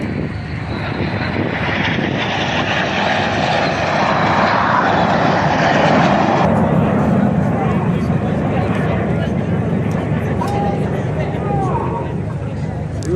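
Aircraft at a Bournemouth air show sweeps overhead in a swooping manoeuvre trailing white smoke, its engine roar loud and sustained, then easing to a steadier, broader drone as crowd murmur and talk carry on beneath.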